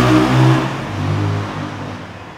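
A car or motorbike driven rashly by youngsters revs hard close by, its engine note rising and then dropping as it passes, fading toward the end.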